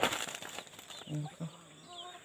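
Chickens cluck softly nearby, a few short calls over faint rustling and flapping, with a brief burst of noise at the start.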